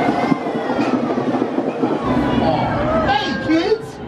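A Chicago CTA holiday train rumbles and squeals as it pulls into a station, with crowd chatter and voices over the mechanical noise.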